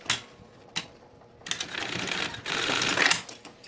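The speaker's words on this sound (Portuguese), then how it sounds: "Aí a gente dobra a pontinha, ó. E bate uma costura aqui pra prender." A sewing machine makes a short, close run of rapid stitches securing the folded end of a bag handle, after a few soft clicks and fabric handling sounds.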